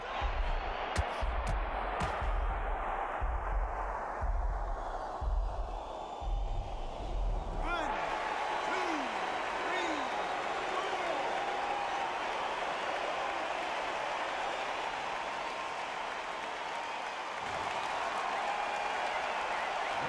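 A broad crowd roar fills a boxing arena in the video game Undisputed, steadily, with a few sharp thuds of punches early on and a distant murmur continuing throughout.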